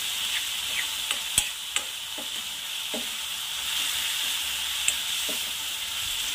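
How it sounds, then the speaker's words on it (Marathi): Spring onion greens frying in oil in a village-style toor dal and onion greens stir-fry, a steady close sizzle with a few sharp clicks of a spoon against the pan, no voices. "तेलामध्ये पकू द्यायचं आहे पात।"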